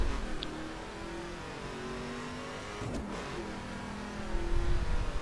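A 2005 Ford GT's engine in a video game hums steadily at moderate volume, swelling into a louder rev toward the end, with a brief whoosh midway.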